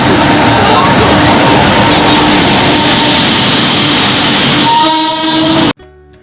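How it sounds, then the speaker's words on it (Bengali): A loud, steady rumble of a train pulling into a station, with a sustained horn-like tone near the end before it abruptly cuts to near silence. "ট্রেন ঢুকছে"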